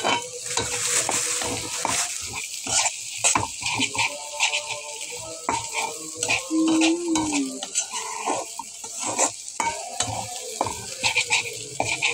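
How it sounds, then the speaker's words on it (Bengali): Close sizzling and frying with frequent scraping and clattering of a spoon against a pan as food is stirred, busy and uneven throughout. "এটা ভাজা করতে হইব"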